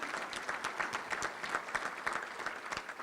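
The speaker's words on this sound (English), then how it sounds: "Let's give a round of applause." Sustained applause from a crowd at a touchdown club meeting, dense overlapping claps at a steady moderate level with no voices over it.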